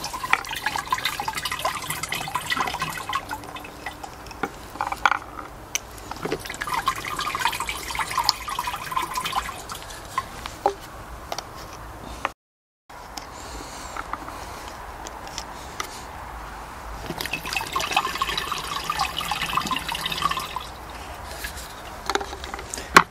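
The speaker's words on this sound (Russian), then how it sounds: "И теперь эти все пузырьки с перекисью водорода выливаю сюда" Bottles of hydrogen peroxide are poured into about ten litres of water in a backpack sprayer tank, giving splashing, gurgling bursts of liquid with brief drips, a short silent gap midway, then more pouring.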